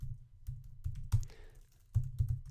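Keys clatter on a computer keyboard as HTML code is typed, an irregular run of soft close clicks in small bursts with a brief pause midway, fairly quiet with no talking.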